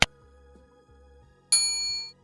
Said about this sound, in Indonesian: jangan lupa tekan tombol loncengnya, supaya kalian mendapatkan notifikasi setiap kali saya upload video